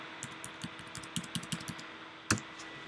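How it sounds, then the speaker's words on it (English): Quick, irregular keystrokes on a computer keyboard, tapping in short bursts with one louder clack near the end, close-up over a steady background hiss. "Typing is atrocious today."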